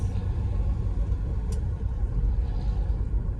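A bus passes on a road in Quezon with a close, steady low engine rumble and road noise that holds for a few seconds.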